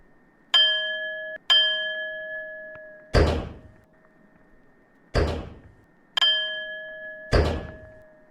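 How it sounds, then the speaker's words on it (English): A doorbell in a horror video game rings three times as a clear two-tone chime with a lingering decay. Heavy door thuds alternate with the rings. "I hit the bell without even looking."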